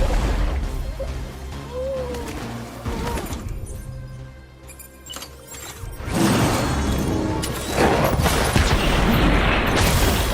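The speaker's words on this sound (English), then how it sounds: "I want to try my new hematic grenades anyway." Hematic grenades exploding in Death Stranding: loud crashing blasts with shattering debris, a quieter lull in the middle, then a second round of heavy bursts and crackling noise near the end.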